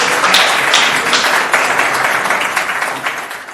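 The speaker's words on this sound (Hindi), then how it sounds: "जोरदार तालियां बजाकर आमंत्रित करिए।" An audience applauds loudly as a poet from Allahabad is welcomed on stage at a Hindi poetry gathering, a dense, continuous wash of clapping that holds steady for several seconds with no voice over it.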